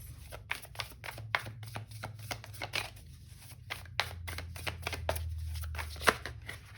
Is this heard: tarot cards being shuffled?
yes